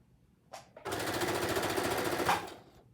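Sewing machine stitching a fabric face mask, a quick rapid run of needle strokes lasting under two seconds after a brief starting clunk, close and fairly quiet.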